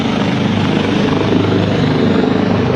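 Helicopter hovers close overhead during the Battagram chairlift rescue, a loud, continuous rotor roar with steady thudding that fills the whole stretch.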